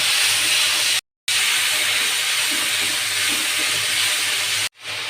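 Spices for rui fish bhuna fry in hot oil with bay leaf and whole cumin, a loud, steady broadband hiss close to the pan that cuts out sharply twice.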